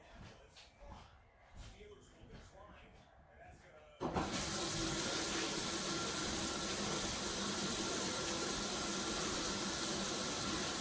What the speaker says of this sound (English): I'm going to turn my hot water on and get that ready.